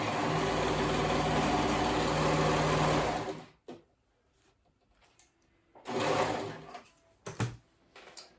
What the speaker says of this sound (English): So I'm gonna go ahead and sew this on.